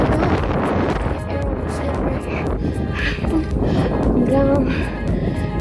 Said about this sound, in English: there's gonna be a heck of wind because I'm on the bike right now